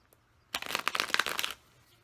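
A quick, close riffle of cards being shuffled, a fluttering burst about one second long in an otherwise quiet room.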